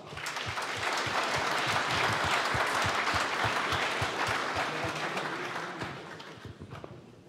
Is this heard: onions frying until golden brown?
no